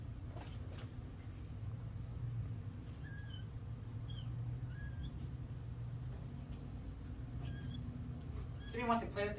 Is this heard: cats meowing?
yes